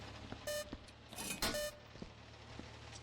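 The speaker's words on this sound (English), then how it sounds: "It really, you know, it really concerns me that that beeps." Electronic beeps sound in the video game Viscera Cleanup Detail, a few short tonal blips, one clustered pair near the middle, quiet against a faint hum with scattered soft clicks.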